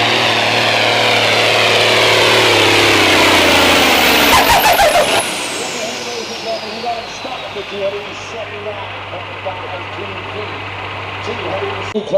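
A pulling tractor's engine roars loud and steady at a tractor pull in Melbourne, Ontario, then cuts off sharply near the middle, leaving fainter crowd and background noise with some voices.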